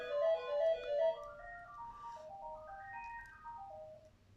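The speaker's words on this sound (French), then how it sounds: "j'ai le téléphone qui sonne" Telephone ringtone in a melodic electronic pattern, a few repeated bright notes followed by rising and falling note runs, fairly faint and alone with no talk.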